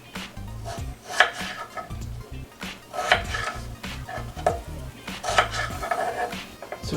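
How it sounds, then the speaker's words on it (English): A knife cuts peeled potatoes into quarters on a board, heard as a handful of separate close thunks spaced a second or two apart, with a low background rumble and no talk. "Now I'll cut these potatoes into 4 pieces each"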